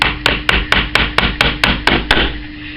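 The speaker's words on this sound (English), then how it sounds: "knock the pins in" A small hammer knocks panel pins into wood on a bench, ten sharp, evenly spaced taps at a brisk steady rhythm, loud and close, then stopping.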